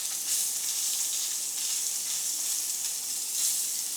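Thin-cut ribeye steak searing in a hot pan gives a steady, bright sizzle and hiss, close and even throughout, with no talking over it.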